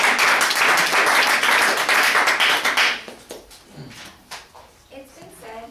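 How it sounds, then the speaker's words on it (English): Audience applause for a speaker, loud, dense clapping for about three seconds that breaks off into a few scattered claps, taps and quiet voices. "let's give a round of applause for our second speaker"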